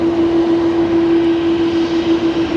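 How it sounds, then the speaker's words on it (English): Engines of an Airbus A330 jet airliner at Brisbane Airport roar loudly and steadily with a constant low drone, near and continuous, with no speech. "Wow, that 330 is loud, isn't it? Listen to it."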